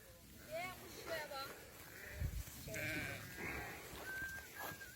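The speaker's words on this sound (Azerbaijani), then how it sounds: "Bax bu qomral qoyunun balası bax budur." Qomral sheep and their lambs bleat in short, repeated calls at moderate distance, mixed with someone talking over the flock.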